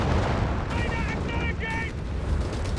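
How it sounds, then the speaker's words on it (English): Rockets crash down in the Company of Heroes 3 real-time strategy game, a dense rumble of explosions and artillery-like blasts with a few brief whistling tones over steady battle noise and a faint voice talking. "Here's the rockets come crashing down."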